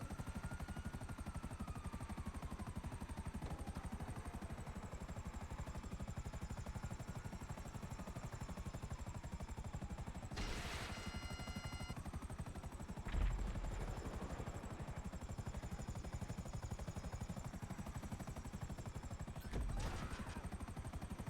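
A helicopter in GTA Online flies continuously during a casino heist mission, a steady rotor thrum with a high whine, broken by a couple of short bursts of gunfire and clatter midway.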